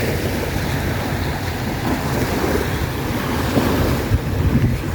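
Ocean waves surging onto a beach at seaside around dawn, a constant loud wash of surf with wind buffeting the microphone, no voices.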